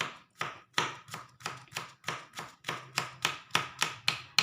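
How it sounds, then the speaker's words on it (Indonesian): Garlic cloves, crushed first, are chopped with a knife on a cutting board, giving a steady run of about sixteen close, crisp knocks at a brisk, even rhythm. "Jadi kita geprek dulu. Nah, baru dicincang."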